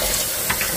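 Bitter gourd leaf tea is poured into a teacup as a brief, steady liquid trickle lasting under a second.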